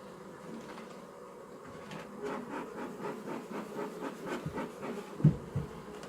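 Honeybees hum in a low, steady swarm drone during an open beehive inspection, with soft knocks and handling noises near the end and no talking.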